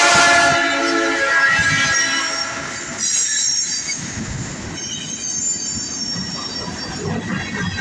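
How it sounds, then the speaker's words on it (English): A southbound Norfolk Southern freight train rolls past close by, its wheels squealing in long high-pitched tones over a steady rumble of cars, with the squeal fading partway through as the rumbling continues. "We got a train coming,"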